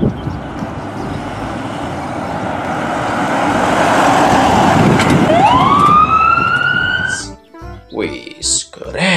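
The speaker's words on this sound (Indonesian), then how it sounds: "ada satu mobil emergency ambulance" A toy ambulance wails with a rising electronic siren tone over a loud whirring motor, building and then cutting off abruptly, followed by brief voices and clatter near the end.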